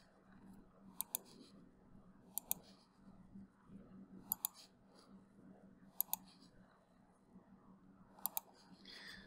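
Several sharp mouse clicks made while importing a vehicle model into Outerra, arriving singly and in quick double taps at irregular intervals, each crisp and close over a quiet background hum.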